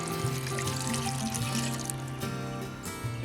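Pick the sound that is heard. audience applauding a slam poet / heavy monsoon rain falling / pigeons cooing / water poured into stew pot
water poured into stew pot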